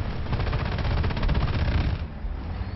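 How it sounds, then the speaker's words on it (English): Rapid machine-gun fire from War Thunder tank combat at battle rating 8.3, a dense steady burst that carries through most of the stretch, then eases into rumbling engine noise. "Oh, who's shooting at me?"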